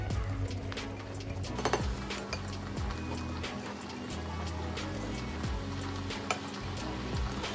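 Pasta with salt, pepper, oil and light cream being stirred in a pot, a continuous low bubbling hum with soft scraping and a few light clinks of the utensil.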